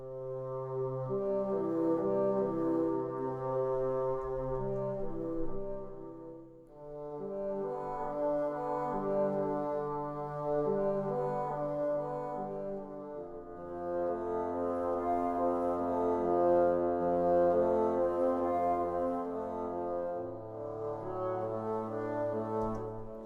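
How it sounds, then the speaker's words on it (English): Low, reedy orchestral bassoon tones, a Berlin Woodwinds sample library, hold sustained chords in slow, smooth phrases, soft and mellow with gentle swells, in a mockup of a piece from The Lord of the Rings. "Actually, just listen to the bassoons."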